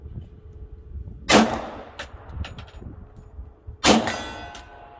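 Two sharp pistol reports from a new Hi-Point 10mm at an outdoor range, each followed by a ringing metallic clang as the round strikes a steel target 50 yards off.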